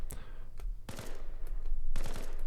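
Burst fire from a rifle in the Arma Reforger video game, with short clusters of sharp shots at the start, near one second and near two seconds, loud and close over a steady background rumble.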